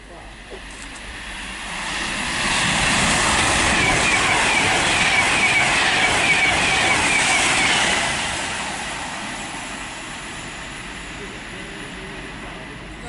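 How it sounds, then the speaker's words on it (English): A Virgin Trains service from London Euston to Liverpool Lime Street runs through Tamworth station on the West Coast Main Line, a broad rushing roar that swells over about six seconds and then eases off. "passing through now is a Virgin Train service from London Euston to Liverpool Lime Street"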